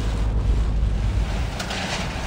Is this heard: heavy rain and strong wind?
yes